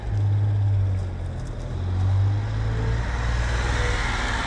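A Honda Street kei van drives down a residential block, its small engine giving a steady low hum with road rumble that swells and eases slightly as it moves, close and continuous.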